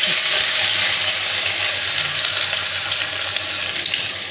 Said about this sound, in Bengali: ওই ভাজা তেলের মধ্যে আমি একটু জিরা ফোড়ন দিয়ে দিলাম। এবার এর মধ্যে আমি পেঁয়াজ কুচিগুলো দিয়ে দিচ্ছি